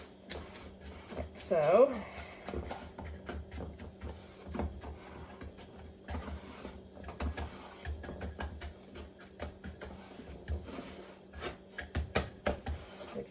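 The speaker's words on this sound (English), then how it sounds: "I'll use my little cup that I had my brown sugar in and kind of evenly smash this around." A small cup presses and smears a brown sugar cheesecake crust into a pan for a Ninja air fryer bake, giving soft scraping and rubbing sounds under a person's talking.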